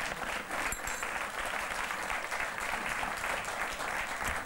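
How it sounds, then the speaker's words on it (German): A TV cooking show studio audience claps in a steady burst of applause, dense and even throughout. "Weil dann ist da so ein Applaus für Johann auch schön."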